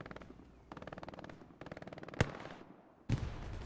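Two sharp, loud blasts from a rocket launcher in a video game, the first brief and cracking, the second heavier with a lingering rumble, set against a steady rhythmic mechanical background.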